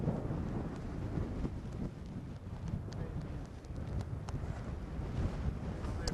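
Strong wind roars steadily across an open outdoor spot in the western backcountry during a trail ride, buffeting the microphone with low rumbling gusts throughout.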